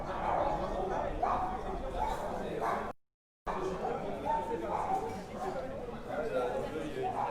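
Several dogs bark together along a street in Toulouse's Saint-Sernin neighbourhood, a moderately distant chorus of yaps and barks mixed with street chatter and voices, briefly cut off midway before resuming.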